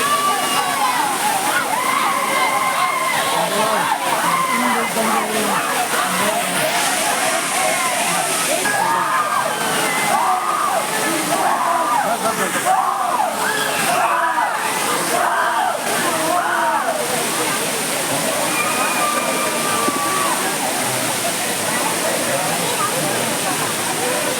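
A forest waterfall pours into a stream, a loud, steady rush of water with sloshing and splashing running throughout, while a person talks over it.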